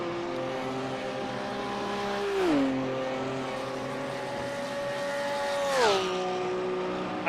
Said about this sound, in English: I'm happy just to listen, honestly, to these cars.